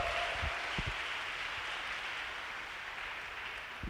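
Clapping from a church congregation at a Catholic gathering, a broad steady patter of many hands that stays even and fairly loud throughout, with a few louder individual claps near the start.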